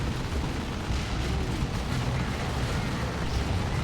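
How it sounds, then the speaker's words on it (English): Stick bomb blast in Warhammer 40,000: Dawn of War 2, a dense, sustained rumbling explosion with crackling debris filling the whole moment, loud and close, with faint game chatter underneath. "Oh, stick bombs. That's quite nasty."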